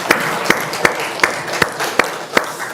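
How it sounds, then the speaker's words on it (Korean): A church congregation claps in thanks to God during Sunday worship, with a steady wash of applause cut by strong, evenly spaced unison claps about every 0.4 seconds. "감사의 박수를 하나님께 한번"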